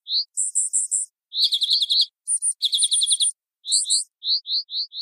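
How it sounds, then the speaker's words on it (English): Fairy wren alarm calls form a chorus of high, rapid chirps and trills. Bursts of repeated notes alternate with short pauses, and the calls are clear and close against silence. "a chorus of alarm calls the wrens would recognize"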